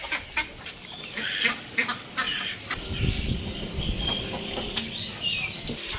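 Ducks quack repeatedly in a busy, close chorus, with scattered honks and calls overlapping throughout and no talking.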